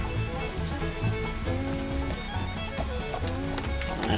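Horse hooves clip-clop in steady rhythm in Red Dead Online, close and continuous under a dense wash of rain-like ambient noise, with no voices.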